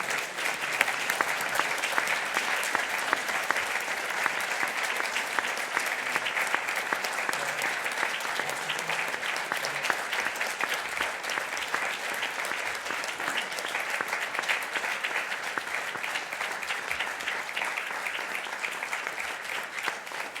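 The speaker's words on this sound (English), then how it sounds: "Let's have a big round of applause for past President Bruce Valentine." A Rotary club audience gives a sustained, loud round of applause for a past president, dense continuous clapping holding steady for about twenty seconds.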